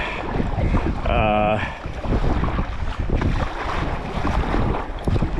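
Strong wind buffets the microphone throughout during a coastal sea kayaking paddle out against the wind, with choppy waves and water around the boat; a steady loud roar persists, briefly joined by a tonal whine near the start.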